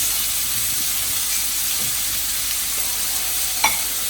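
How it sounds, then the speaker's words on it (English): Broccoli, peas and carrots hiss and sizzle steadily in a hot pan, a constant frying crackle with a small clatter near the end and no talking. "Now I'm going to start throwing my vegetables in. First one is broccoli, peas and carrots"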